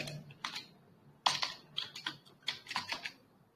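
Someone types a command into the MATLAB command window on a computer keyboard: quiet, close, irregular bursts of key clicks with short pauses between them.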